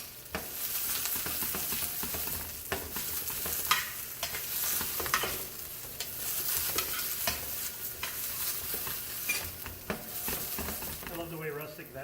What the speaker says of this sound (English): then I'm going to add bok choy